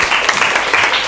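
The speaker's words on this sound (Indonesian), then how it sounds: "Tepuk tangan dulu." A classroom of students clapping, a brief dense burst of applause, close and fairly loud.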